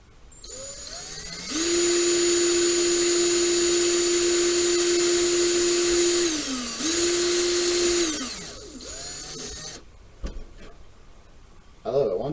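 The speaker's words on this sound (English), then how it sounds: "Once it starts drilling, it's going." A step drill boring into a plastic part of an MPC X-Wing Fighter model kit, a loud steady high whine lasting several seconds, briefly dipping and resuming before spinning down, close and alone.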